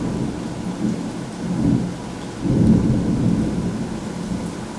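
Low rolling thunder rumbles twice over a steady hiss of falling rain in a Brazilian rainforest, moderately loud and distant.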